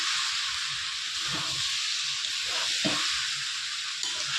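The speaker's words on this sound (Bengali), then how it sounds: "একটু ধৈর্য রেখে অল্প আঁচে ভালো করে কষাতে হবে অনেকক্ষণ" Papaya and potato with prawns slowly sautéing over low heat in a pan, a close steady sizzling hiss with a few soft scraping stirs and no talking.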